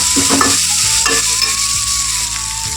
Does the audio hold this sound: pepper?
yes